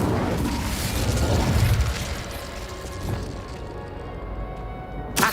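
The Incendio fire spell is cast in Hogwarts Legacy, a loud whooshing burst of flame that roars and then tapers off, with a sharp pop at the very end.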